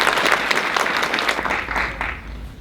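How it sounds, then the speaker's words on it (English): Audience applause for keynote speaker Emmanuel Kulu Jr. at the SUNY Geneseo Diversity Summit, a steady, dense wash of many hands clapping throughout, easing slightly toward the end. "please give a welcoming round of applause for Emmanuel Kulu,"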